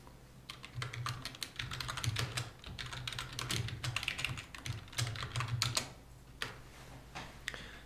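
Rapid clicks of a computer keyboard sound up close as commands are typed into a terminal on a Raspberry Pi, in quick irregular bursts with short pauses.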